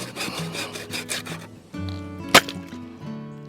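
Ozark Trail 3-in-1 camping hatchet saw cutting into wood, with steady rasping strokes for about a second and a half, then a pause, a single sharp loud crack or chop, and lingering ringing tones.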